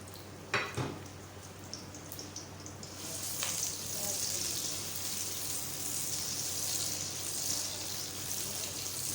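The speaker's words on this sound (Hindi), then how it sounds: "साथ ही इसमें सबसे पहले प्याज डाल दें। एक बड़े साइज़ का या 2 दरमियाने साइज़ के प्याज ले लें और अच्छी तरह से फ्राई करें प्याज को।" Onions sizzle as they fry in a hot pot for chana dal pulao, a steady, fairly quiet hiss that swells and holds after a couple of soft knocks near the start.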